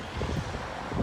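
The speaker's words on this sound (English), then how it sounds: "wow, it's windy." Wind gusts buffeting a microphone outdoors, a steady broadband roar with low rumbling thumps that swells near the end, with no voices.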